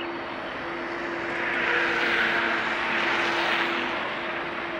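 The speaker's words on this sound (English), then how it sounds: "Airbus A321 or A320, I'm not sure." A China Eastern Airlines Airbus A321 or A320 jet comes in to land in thick fog, its steady broadband engine roar swelling slightly and then holding, with a persistent low hum running underneath and no voices.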